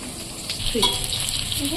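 Soybean chunks frying in oil in a wok make a continuous soft sizzle with small crackles and a brief clatter of stirring, and a voice speaks faintly over it.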